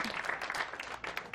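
A comedy club audience applauds a stand-up comic in a short, dense burst of clapping with no voices over it.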